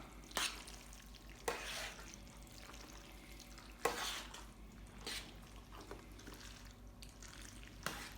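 Spaghetti being mixed with meat sauce in a pan, faint wet squishing and stirring with several sharp clacks of a utensil against the pan at irregular intervals.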